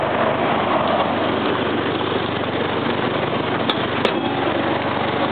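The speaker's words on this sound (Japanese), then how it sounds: "でエアコンの方もですね、コンプレッサーしっかり正常作動しております。" An air conditioning compressor runs steadily on a late-model five-speed Suzuki Cappuccino, a continuous close engine-bay hum with idling drone, unbroken for the whole stretch apart from two brief clicks near the end.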